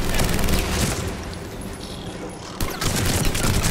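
Rapid gunfire in Mass Effect 3 multiplayer rattles continuously at close range, a dense, loud barrage with a brief break before a heavier burst resumes.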